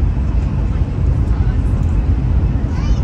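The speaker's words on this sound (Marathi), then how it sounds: "एवढी जास्त स्पीड असताना सुद्धा एवढी स्मूथ चालते ही ट्रेन" Inside a Japanese bullet train travelling at high speed from Tokyo to Shin-Osaka: a loud, steady low rumble and rushing roar that continues unbroken throughout.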